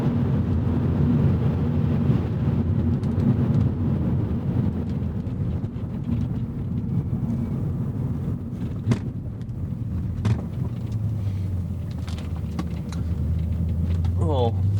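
A 2002 BMW M5 E39 engine drones steadily from inside the cabin while driving, with a loud low rumble and wind noise throughout and a brief pitch sweep near the end.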